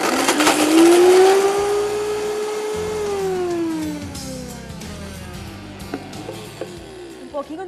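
A blender motor pulses loudly while making zucchini spaghetti with tomato sauce, its pitch rising then dropping steadily as it spins down, with scattered clatter and a voice briefly in the background.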